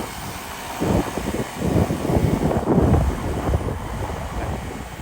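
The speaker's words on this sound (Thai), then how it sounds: "มีลมยังหน่อยเด้อครับผม" Wind gusts buffet the microphone outdoors at a house, rumbling in uneven low bursts that rise and fall over a steady background hiss, with no talking.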